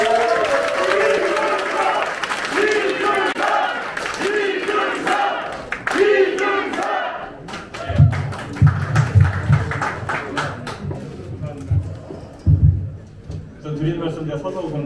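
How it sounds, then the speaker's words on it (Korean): Crowd applause and cheering at an Incheon party members' meeting as a party leadership candidate takes the stage, swelling loudly midway and mixed with voices and a booming announcer over the hall. "큰 박수로 환영해 주시기 바랍니다."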